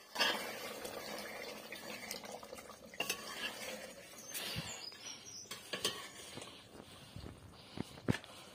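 Goat meat curry is stirred in a pot, with soft scraping and clinking of a ladle against metal amid a low bubbling simmer, a few sharper knocks near the end, moderately quiet and without speech.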